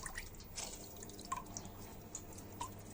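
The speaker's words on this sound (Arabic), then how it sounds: "وهبدا الليمون كده اعصره" Hand-squeezed lemon juice dripping into water, a few faint, sparse droplets plinking close by against a soft background hiss.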